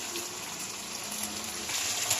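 Vinegar and water are poured into a pan of chicken adobo, a soft, steady gushing splash heard alone at low volume for a couple of seconds.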